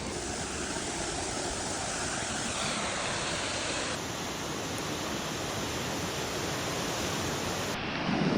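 A waterfall in heavy flow on a hiking trail roars as a loud, constant broadband rush that fills the whole clip without a break.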